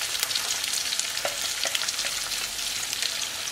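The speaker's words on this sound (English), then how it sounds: "So you're just going to saute it, like, you know, just with 3 minutes on each side." A tuna steak sautés in a hot pan with a loud, continuous sizzle and crackle, plus faint stirring or shifting sounds, and no talking.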